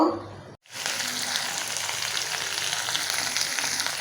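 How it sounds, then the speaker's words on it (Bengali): Dried fish hits hot oil after a short pause and fries with a loud, bright, continuous sizzle close by, steady throughout without speech. "তো এটার ভিতরে শুটকিটা দিয়ে দিছি বন্ধুরা, তেলের ভিতরে আমি কাঁটাটা ফালাই নিমু।"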